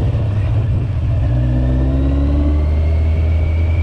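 A car engine with an ignition misfire runs loud and close in a steady rumble, its pitch sliding upward midway as if revving slightly, with no clear talk.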